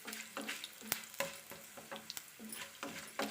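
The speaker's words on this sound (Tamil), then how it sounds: "அதை சேர்த்து நல்லா வதக்கிக்குவோம்." Dried red chillies sautéing in oil in a pan for an okra stir-fry, a steady soft sizzle broken by several sharp scrapes and stirring knocks, close and alone with no voices.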